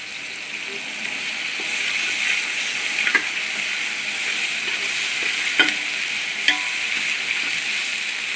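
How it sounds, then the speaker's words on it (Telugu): Ginger garlic paste frying in a pan for pulao, a loud continuous close-up sizzle with occasional stirring clinks and scrapes throughout. "వేగిన తర్వాత అల్లం వెల్లుల్లిపాయ పేస్ట్ అయితే వేసుకోవాలి"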